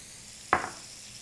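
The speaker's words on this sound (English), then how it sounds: "We're going to get a little sizzle here." Butter and salted flank steak hitting a hot cast iron skillet give one quick burst of sizzle that fades within a fraction of a second, close and fairly soft against a quiet room.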